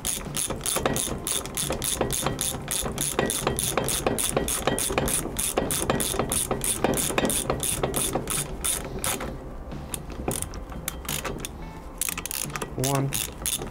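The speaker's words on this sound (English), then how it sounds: "Bring them down with the ratchet." A ratchet brings down the brake parts on a Triumph Spitfire with rapid, loud, evenly spaced clicking close by. It pauses briefly, then resumes in shorter bursts.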